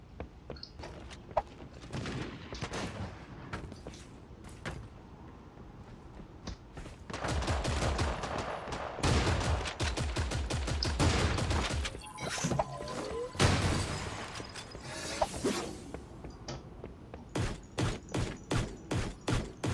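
Gunfire from a weapon in the video game Creative Destruction: scattered single shots, then dense rapid bursts of automatic fire with crashing impacts, ending in a rhythmic string of evenly spaced loud shots.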